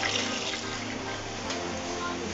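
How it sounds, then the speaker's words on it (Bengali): Water runs steadily and fairly loud over chopped potatoes, pumpkin greens and stems being washed in a kitchen, a continuous splashing rush with no talk. "ধুয়ে দিচ্ছি জল দিয়ে।"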